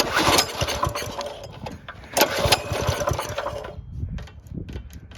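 A Coyote Bullet go-kart engine is pull-started but fails to catch, giving two loud, close rasping cord pulls with brief sputtering turnover and rattling, then quieter handling clicks and knocks with no voices.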